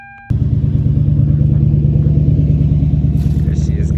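A Lexus LS400 cranks briefly and fires, then settles into a loud, steady, smooth idle rumble close by in a garage.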